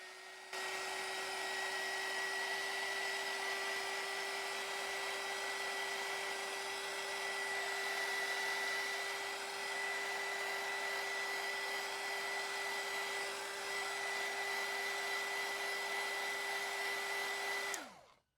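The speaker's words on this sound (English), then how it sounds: "I'm going to use a heat gun." A heat gun warming leather cream on Dr. Martens tall leather boots, a steady whirring blower hum with a high whine running continuously at close range before cutting off at the end.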